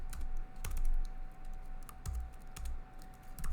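Someone typing HTML and CSS code on a computer keyboard: bursts of clicking keystrokes with a few heavier thumps, close up over a steady electrical hum, with no talking.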